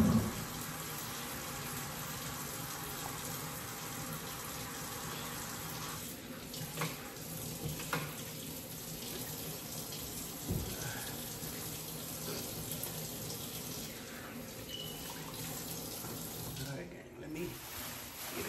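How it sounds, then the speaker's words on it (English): Turkey giblets are washed under a running kitchen tap. Water gushes steadily into the sink for the whole stretch, a constant hiss with small shifts in flow. "wash my giblets and add them to it"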